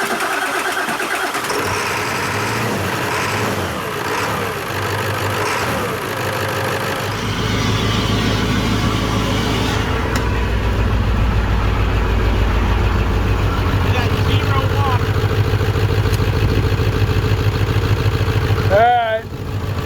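A 7.3 Powerstroke diesel engine in a $300 auction truck cranks, catches and settles into a loud, rough idle with a slight miss. The rumble is close and continuous, and people talk over it throughout.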